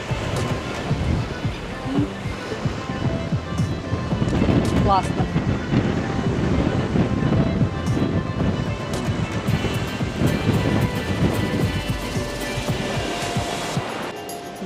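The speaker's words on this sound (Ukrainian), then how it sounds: "Море, щастя, хвилі, все це заспокоює однозначно." Sea waves wash steadily onto the shore at Odesa near the Chkalov sanatorium, a continuous broad surf roar with gusty wind, and a voice speaks briefly over it.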